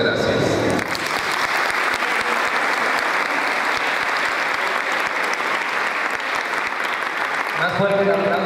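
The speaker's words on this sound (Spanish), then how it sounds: "Más fuerte un aplauso, por favor" An audience claps loudly and steadily at an evening cultural gathering, a thick continuous wash of applause for several seconds, bracketed by a voice over a loudspeaker at the start and end.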